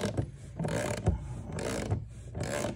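A socket wrench threads Yak Power button light screws into an Old Town Sportsman Autopilot 120 kayak hull, giving a close, repeated mechanical ratcheting clicks in short bursts with no talking.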